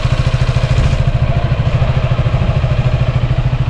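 A Yamaha XMAX 300cc scooter with a Blue Core engine idles with a loud, rapid, even putter, close by and steady throughout.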